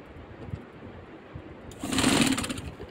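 Sewing machine stitching along the margin of a kameez, quiet handling and rustling at first, then a short steady whirring run of the motor near the end.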